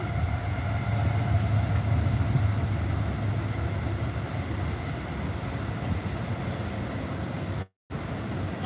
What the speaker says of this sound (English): Let's let this big ass train go by.